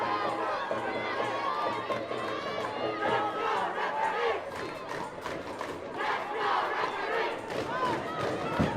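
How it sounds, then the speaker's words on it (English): Football crowd at a Philippine league match chanting together in displeasure at the referee, a loud, sustained roar of massed voices with rhythmic shouting rising and falling throughout. "To the chant of the crowd, showing displeasure to the referee."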